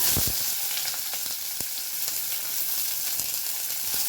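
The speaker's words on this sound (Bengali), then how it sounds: "এবারে আমি এই গরম তেলের মধ্যে কুচনো পেঁয়াজটা দিয়ে দিই" Chopped onion goes into hot oil in a wok while cooking chicken jahangiri. A loud, dense, continuous sizzle fills the whole stretch, with faint crackles and light utensil clicks scattered through it, close up.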